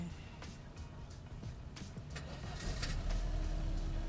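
A Mercedes-Benz W124 230E sedan starts up: the engine turns over and catches on the first try, then settles into a steady, close idle that grows louder and fuller near the end.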